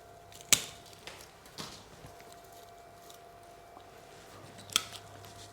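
Pruning shears snipping branches on a dense John Naka bonsai forest group, a few sharp isolated clicks spaced apart, two louder cuts standing out over a quiet background.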